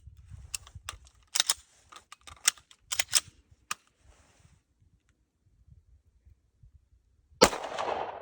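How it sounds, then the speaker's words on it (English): One sharp, loud gunshot from a firearm at an outdoor gun range comes near the end, after a stretch of scattered light clicks and handling noises. "So this hotshot says he's gonna try to shoot it again."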